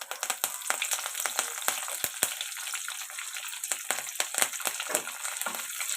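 Curry leaves and dried red chillies crackle in hot tempering oil for a peanut chutney, giving a loud, busy sizzle with sharp, irregular pops and spits throughout; nobody talks.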